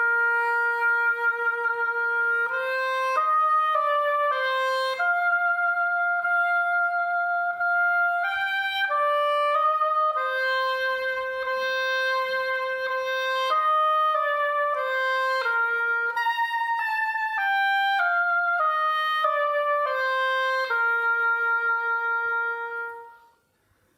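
An oboe with its reed fitted plays a clear, nasal melody solo for about twenty seconds. The notes step smoothly, with a few held tones, before fading out at the end.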